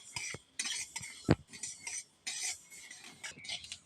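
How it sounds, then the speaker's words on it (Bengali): White mustard seeds roasting dry in a hot wok, stirred in short bursts of gritty rattling and scraping with one sharp metal knock, close by and separated by brief quiet gaps, with no voices. "গরম করার মধ্যে আমি সাদা সর্ষেটা একটু ভেজে নেবো"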